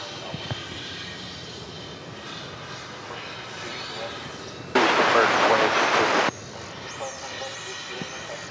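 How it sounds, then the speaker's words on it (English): An American Eagle CRJ 701ER jet landing at DFW Airport, a distant engine roar that surges briefly louder before fading, with someone talking throughout. "It's American Eagle Flight 3216. Another CRJ 701ER coming in from Brownsville, Texas"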